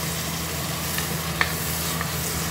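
Tomatoes dropped into a pan after green chillies, sizzling in a dense, even hiss with one brief sharp pop, close and unbroken without any speech.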